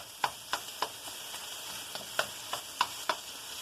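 Italian sausage sizzles steadily in a pan while chopsticks tap and click against it every half second or so, close and fairly quiet.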